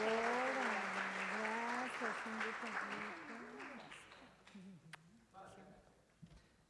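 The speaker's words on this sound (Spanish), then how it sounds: "Un aplauso para ella" Applause for a female award recipient at a medical research prize ceremony, heard under a prominent voice and fading as the clapping dies away.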